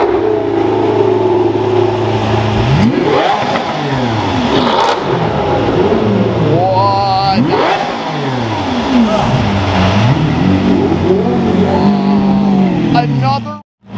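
Lamborghini Aventador SV V12 revving hard, several rising and falling blips that swell from mid-range to a high howl, with voices talking over the engine noise throughout.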